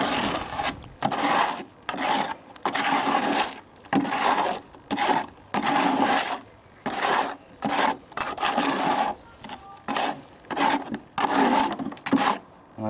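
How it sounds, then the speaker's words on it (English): Wall filler being stirred with water in a container, a rough rasping scrape repeating in steady strokes with brief pauses between them, close and fairly loud with no talking. "And just mix it round."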